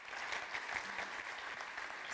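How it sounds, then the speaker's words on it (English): A small crowd claps steadily for about two seconds after a panel presentation, a soft, even patter of applause heard from a slight distance. "let's have a quick round of applause for Madhavan's presentation."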